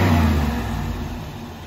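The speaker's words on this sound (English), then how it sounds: "Dude, do a burnout." A Monte Carlo's engine roars loud and close as it revs through a burnout, a sustained heavy rumble that eases slightly over its short length.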